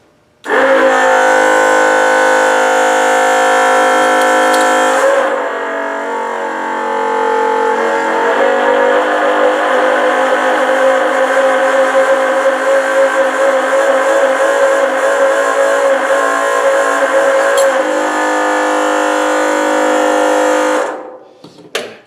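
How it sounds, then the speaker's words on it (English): A VEVOR 12-volt fuel transfer pump runs in a shop with a loud, steady electric motor whine that starts abruptly, holds for about twenty seconds with a slight shift in pitch, then cuts off. "Let's turn on the pump."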